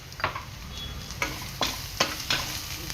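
Chillies, ginger garlic paste, turmeric and salt sauté in a pan: a low, soft sizzle broken by about five distinct scraping stirs of a spoon against the pan, spaced roughly half a second apart, close and without talk.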